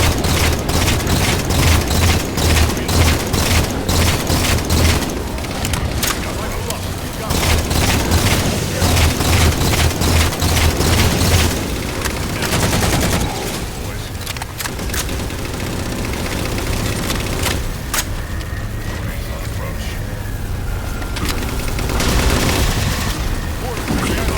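Railgun fire and heavy blasts in Halo 4 as phantoms are shot down, a dense, loud, continuous barrage of booms and gunfire layered with game sounds throughout.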